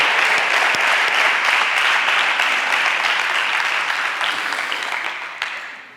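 Strong audience applause at a talk or presentation, dense and sustained clapping at steady loudness for several seconds before tapering slightly at the end.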